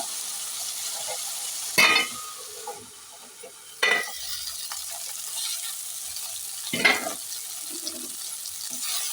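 Brinjal pieces cooking in a pan for vangi bath, a soft steady sizzle broken by three louder scraping stirs with quieter pauses between them.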